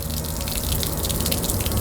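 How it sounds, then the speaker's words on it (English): Water gushes steadily from the outdoor spigot at the front left of a Lakota living-quarters horse trailer, a continuous loud close rush with no pauses. "you want to locate the outside water spigot. Most of the Lakotas, it's going to be right up here at the front left. Just turn it on until you see pink once again"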